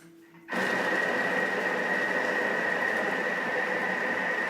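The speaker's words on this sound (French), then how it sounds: "je vais mixer pendant 10 secondes à la vitesse 4" A food processor blends mushroom velouté at speed 4, starting abruptly after a brief quiet moment and then running as a loud, steady whir with a constant motor tone for the rest of the clip.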